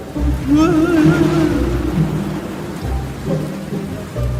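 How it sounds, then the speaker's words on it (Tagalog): Heavy rain pours steadily while low rumbles of thunder roll underneath, with a brief tonal sound in the middle. "Pesting ulan to."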